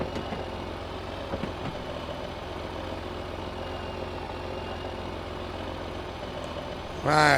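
A tractor engine idles steadily at close range, a low continuous rumble that holds throughout, with a louder burst of higher mechanical noise near the end.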